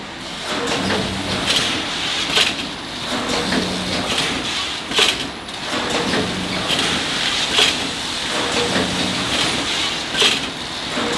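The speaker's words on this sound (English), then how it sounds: "it's like a really sharp kitchen knife that just runs along the edge and cuts it. And that's what that machine does there." A factory machine slices plastic bag material with a sharp blade. It runs in a loud mechanical rhythm, with a clacking, hissing cycle about every two and a half seconds over steady industrial hum. No one speaks.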